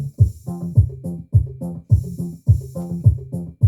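Boutique Roland 808 drum machine bongo hits play a bouncy, repeating pattern of pitched taps, evenly spaced and close, with nothing else over them.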